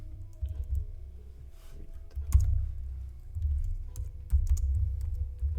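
Fast typing on a computer keyboard during live coding, a quick irregular stream of soft key clicks with occasional louder taps, close and without speech.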